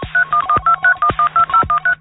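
Telephone keypad dialing tones, a quick run of about twelve short evenly spaced beeps, clear and close with no talking.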